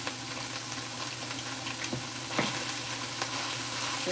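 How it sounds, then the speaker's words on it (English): Onions frying with cooked ground beef in a pan, a soft continuous sizzle with occasional light stirring scrapes, quiet and close, with no talking. "start moving the onions around with the beef"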